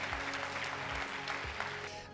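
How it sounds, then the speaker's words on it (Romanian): Dense audience applause at a leadership summit filling a large hall with steady clapping, a low rhythmic thumping underneath. "Vă rog să-l aplaudați"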